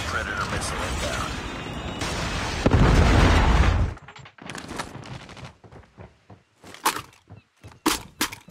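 Predator missile strike in a Call of Duty match, a heavy roaring blast that swells and cuts off, followed by scattered gunfire bursts and pops, with radio-style voice callouts over the action.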